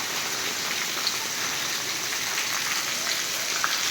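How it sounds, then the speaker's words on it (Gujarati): Steady light rain patters on a surface in the evening at Kalasar near Chotila, Gujarat, a soft continuous hiss with scattered drip accents throughout. "વરસાદનું ધીમી ધારે આગમન"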